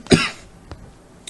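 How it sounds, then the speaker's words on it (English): A single sharp cough bursts out close to the mic, followed by a fainter second cough and a small throat sound, with quiet room noise between. "The coughs are real."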